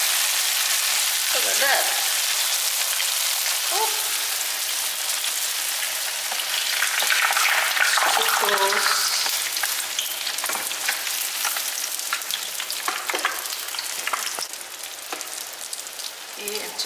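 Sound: spring rolls with mixed berries frying in hot oil

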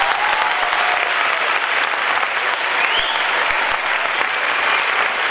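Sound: audience applause

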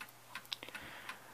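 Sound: 1936 Seth Thomas 8-day mantle clock ticking

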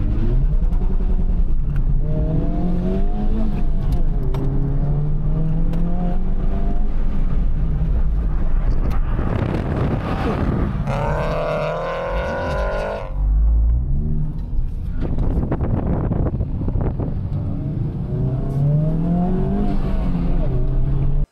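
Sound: Honda Civic Type R FL5 on an autocross run

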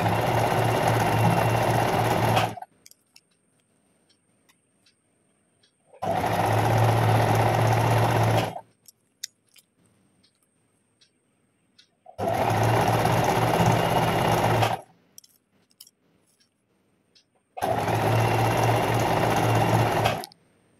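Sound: sewing machine stitching a bag

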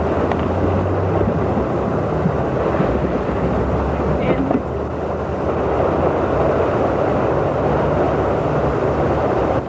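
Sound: tornado exploding power transformers, Huntsville Alabama

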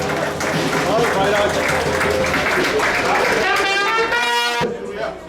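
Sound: applause

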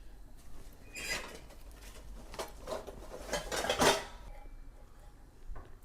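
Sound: handling metal plates and cups

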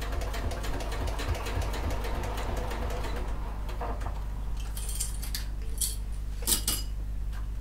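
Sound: sewing machine stitching around the seams of a clutch

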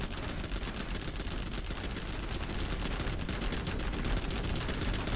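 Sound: minigun firing in video game Zero Hour

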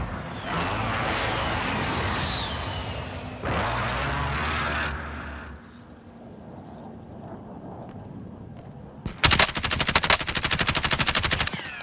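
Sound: gunfire, hostile fire in Call of Duty: Modern Warfare video game

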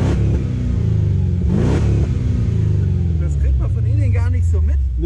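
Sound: car engine revving

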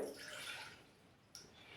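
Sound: water being poured into a pot

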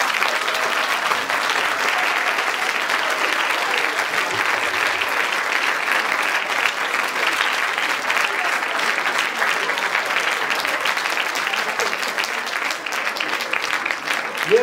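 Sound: audience applause

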